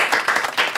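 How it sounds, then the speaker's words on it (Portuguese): Brief burst of audience clapping for Sheylli Caleffi at the close of a talk, quick overlapping claps heard close and alone. "Palmas para Sheili"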